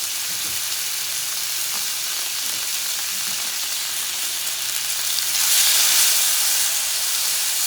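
Pork cooks in a hot pan with a continuous sizzling hiss that swells louder for a moment partway through, with no talking over it.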